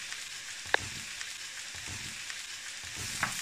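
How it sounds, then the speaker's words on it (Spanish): Shallot, garlic, butter and mushrooms sizzle steadily in hot oil in a pan, a close, continuous frying hiss with a couple of sharp pops and stirring sounds. "Echamos el ajo, salpimentamos, añadimos la mantequilla y el champiñón y damos bien vueltas."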